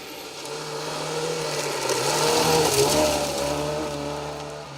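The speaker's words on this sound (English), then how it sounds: "Great to see the Volvo, the big bus, the Volvo PV544 Sport of Martin Linden and Rickard Forsell, the Swedish crew" A Volvo PV544 Sport rally car on a stage of the Roger Albert Clark Rally, its engine note swelling loudly and steadily as it passes close by, with no voices.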